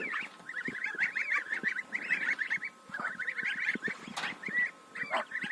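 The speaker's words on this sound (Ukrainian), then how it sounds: "Отам між ними гусачки, гусочки." A flock of young geese on a village farm honks continuously at close range, overlapping calls in a busy, chattering stream with a few louder squawks.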